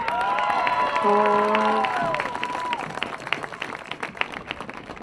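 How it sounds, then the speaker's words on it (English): A stadium crowd applauds and cheers for senior soccer players on the field, a loud, dense wash of clapping that swells and then slowly thins out, with a few whistles and shouts rising through it. "let's give one big more round of applause to Emma Shoemaker, Hannah Dempsey, Sophie Snyder, Claire Nashala, and Lauren Sinha"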